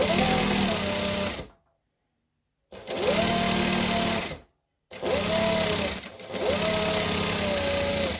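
A sewing machine stitching a quarter-inch seam on Christmas tree skirt fabric, four loud whirring runs with a rising motor whine, separated by brief silent stops, close up.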